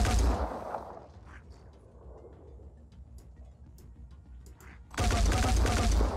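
Burst-fire weapons in the Phoenix Point tactical video game, with a loud rattling volley at the start and another at the end, separated by quieter game ambience.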